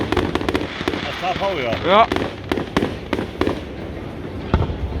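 Fireworks at the Inselfest in Krakow am See burst in a series of sharp distant bangs and crackles, with people talking nearby throughout.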